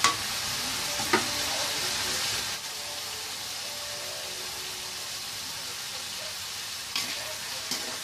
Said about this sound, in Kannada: ಸೊ ಇದನ್ನು ಎಣ್ಣೆಯಲ್ಲಿ ಒಂದು 3 ನಿಮಿಷಗಳ ಕಾಲ ಚೆನ್ನಾಗಿ ಫ್ರೈ ಮಾಡ್ತಾಯಿದ್ದೀನಿ. ನಿಧಾನ ಉರಿಯಲ್ಲಿ